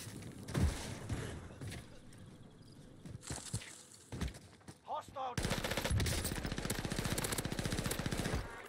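New RA 225 submachine gun firing in Warzone, a few scattered shots and footsteps followed by a sustained rapid automatic burst, loud and close.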